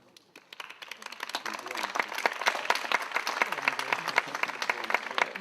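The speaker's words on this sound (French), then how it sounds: "Merci pour ces applaudissements" An audience at a closing plenary of an energy-transition conference breaks into applause, starting faint and swelling into dense sustained clapping from many hands, fairly close.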